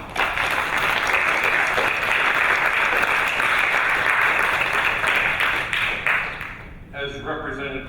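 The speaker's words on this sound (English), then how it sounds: "A round of applause." An audience at a school meet-the-candidates night claps in a loud, dense round of applause that holds steady for about six seconds, then thins out as a few voices begin speaking.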